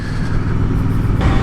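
Suzuki GSX-8R 2024 motorcycle engine held at about 6000 rpm, a steady loud droning rumble with a slight rise in pitch near the end, no talk over it.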